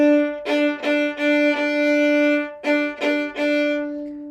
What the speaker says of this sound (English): So if I can demonstrate on an open string, it would sound like this.